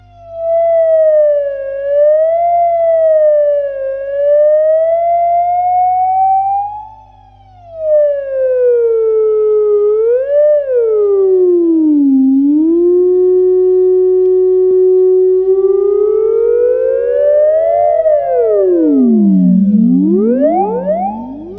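Electric guitar through a BOSS BF-1 flanger produces a loud, theremin-like sweeping tone. A single eerie line glides and wavers up and down in pitch, then dives in deep swoops near the end, with no voices.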